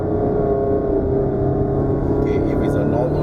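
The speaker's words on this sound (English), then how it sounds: "the engine sound is a bit sporty" Honda City Hybrid engine in sport mode working hard up a hill, a steady, fairly loud drone with a sporty edge that holds constant through the stretch, heard from inside the car.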